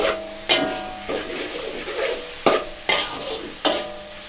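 Tofu sizzles in a hot wok over high heat while a metal spatula scrapes and clanks against it in several sharp, irregular strokes.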